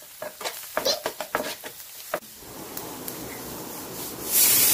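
Sesame seeds and ingredients for sesame chicken stirred in a pan, with a quick run of scraping strokes followed by a soft, steady sizzle, close and fairly quiet.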